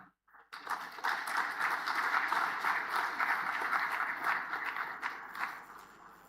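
An audience at an African agriculture science conference bursts into sustained applause, a dense, even wash of clapping after a brief quiet start, heard from across a large hall.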